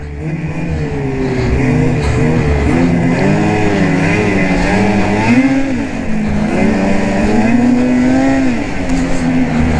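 A 2020 Ski-Doo Backcountry XRS snowmobile engine drones loud and close while riding, its pitch rising and falling in smooth waves as the throttle is worked, with no talk.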